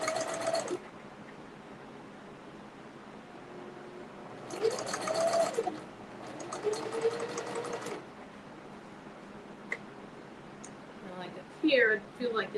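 A domestic sewing machine stitches the lining of a child's purse in two short bursts of rapid needle chatter. Quiet handling and a faint voice come in the pauses between runs.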